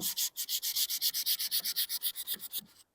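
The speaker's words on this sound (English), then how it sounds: "I'm using that to go up, give myself a sanding there" Hand sanding across a wooden coffee table top with a flat-edged block, about fifteen rapid back-and-forth rubbing strokes in a steady rhythm, close and fairly loud, with no talking.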